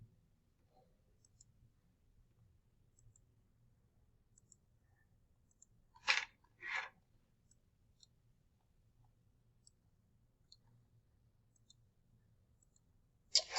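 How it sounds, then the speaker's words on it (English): Calculator keys pressed in a couple of quick, close bursts near the middle of an otherwise quiet stretch, with one more short click at the very end. "I'm going to go ahead and type this into the calculator"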